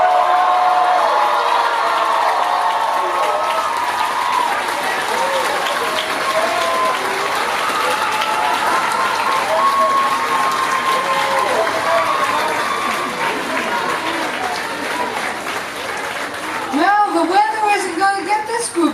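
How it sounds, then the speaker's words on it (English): Applause and cheering from a crowd at an art and design college graduation commencement, loud and sustained clapping with whoops, thinning toward the end as voices rise over it. "One more round of applause."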